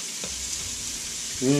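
Sausage rendering down in a pot for chicken and sausage gumbo, a steady close hiss of frying fat, with a brief voice cutting in at the end.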